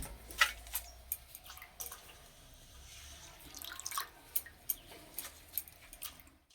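Water drips from freshly washed neem leaves as they drain: scattered soft drips and small splashes at irregular intervals, faint and close, in a quiet room with no talking.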